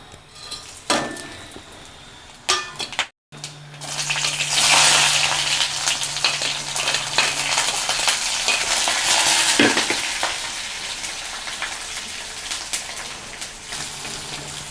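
Sliced onion sizzles in hot oil in a pan with whole spices such as cinnamon, cardamom, cloves, peppercorns and a dried red chilli, giving a steady crackling fry broken by clinks and scrapes of stirring.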